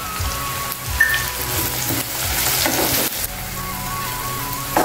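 Finely chopped onions and green chillies frying in a pan with turmeric and peas, a loud continuous crackling sizzle like rain on a hard surface, with brief bursts of spitting and no talking.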